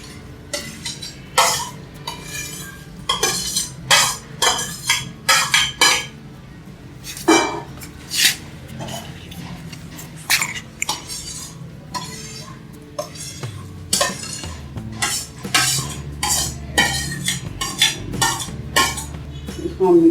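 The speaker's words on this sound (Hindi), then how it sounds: "अब इसको हम मिक्स कर लेंगे और साथ ही जेली डाल देंगे।" Custard sharbat being mixed with jelly: repeated clinks and scrapes of a spoon against a bowl in an irregular rhythm, close up, with brief pauses between strokes.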